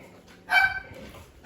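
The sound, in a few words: dog barking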